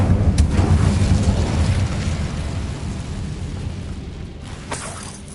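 An Incendio fire spell cast in Hogwarts Legacy on PS5 bursts with a loud, rumbling whoosh at the start, then settles into a sustained low roar of flame that slowly fades, with a brief crackle near the end.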